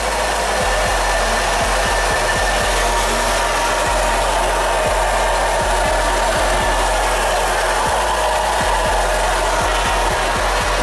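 A Nissan Qashqai with a JF015 CVT transmission gives off a loud, steady whine with a broadband hiss as it pulls away under light throttle, continuous and close, with faint ticks underneath.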